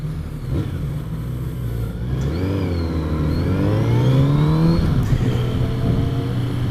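A 2018 Kawasaki Z900RS motorcycle on a test ride, its engine droning steadily up close with wind rush, pitch climbing and falling through revs and shifts, with no talk.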